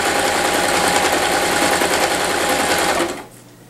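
Domestic sewing machine stitching fabric for a double stitch, a fast steady whirring chatter running loud and close for about three seconds before stopping abruptly.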